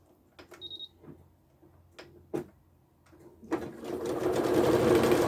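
After a few scattered clicks and taps, a sewing machine starts up and runs steadily, stitching a quarter-inch seam on a two-color scrappy 12-inch leaf quilt block. The whir is close and continuous to the end.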